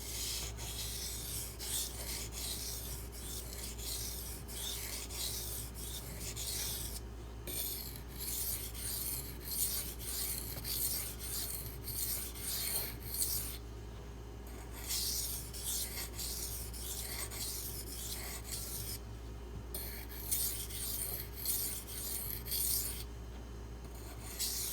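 A Benchmade Mini Crooked River knife is sharpened on a sharpening stone with steady, continuous rasping strokes, close and even, broken by a few brief pauses, with no voices over the sound.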